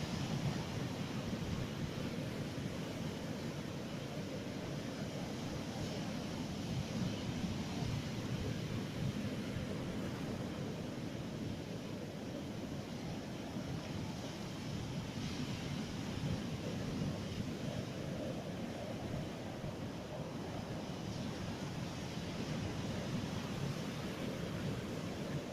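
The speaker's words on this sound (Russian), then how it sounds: "Какое сегодня красивое море. Какие волны." A stormy sea roars as waves break on the shore, with a continuous low rumble of surf and wind buffeting the microphone, steady and unbroken.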